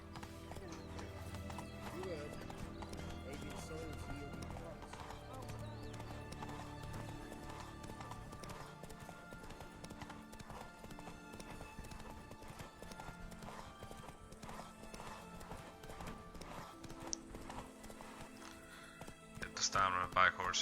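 A horse gallops in The Witcher 3, its hooves clopping in a steady rapid rhythm with an occasional whinny, heard under game music and someone talking throughout.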